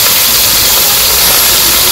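Vegetables stir-fried in a pan with salt, turmeric, dried and green chillies, giving a loud, close, continuous sizzling hiss with no pauses.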